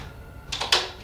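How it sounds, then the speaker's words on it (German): A door is opened indoors at night with two short bursts, a soft scrape followed by a sharper click or thud, close by and brief against a quiet room background. "Die Tür machen wir auf."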